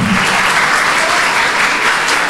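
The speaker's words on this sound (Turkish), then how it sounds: "Onlara bir alkış istiyorum." Steady, dense applause from an audience at a Turkish school event where an author meets students, loud and sustained throughout with no speech.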